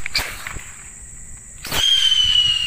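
Whistle rockets going off: sharp crackling bursts near the start, a loud explosive crack partway through, then a steady high whistle shrieking on to the end.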